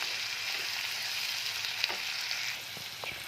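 Chopped tomato frying in a pan with onion for potol curry, a soft steady sizzle throughout with a few light clicks of the spatula toward the end, close and alone.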